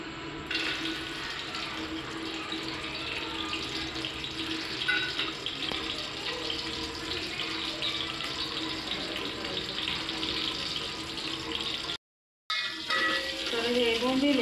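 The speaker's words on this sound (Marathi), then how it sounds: "तर हे बोंबील आहेत ना लालसर होईपर्यंत तळून घ्यायचे आहेत" Bombay duck fish frying in hot oil for a spicy black brinjal curry, a steady dense sizzle that runs loud and close for about twelve seconds, then cuts out briefly before resuming.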